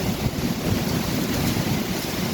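Big sea waves churn after a typhoon, a loud, continuous roar of surf mixed with gusting wind buffeting the microphone, with no voices.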